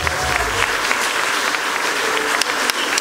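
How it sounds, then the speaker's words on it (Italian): A concert audience applauds a live band steadily, many hands clapping in a dense, lively burst that fills the room for a few seconds. "Un grande applauso per Marco Ferretti."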